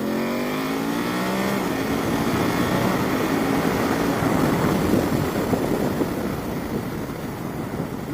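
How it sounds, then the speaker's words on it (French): An adventure motorcycle accelerates at full throttle. Its engine note sweeps up sharply at first, then gives way to a loud, rushing roar of wind and engine that lasts to the end. "Gaz en grand."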